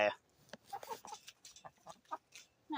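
Backyard chickens cluck in a close, lively series of short calls with brief pauses, loud and near, with no talking.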